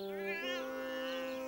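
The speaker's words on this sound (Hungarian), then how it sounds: "Caillou megijedt a mérges cicától." An angry cat lets out a drawn-out, wavering meow, fairly clear and close, with a steady low tone underneath.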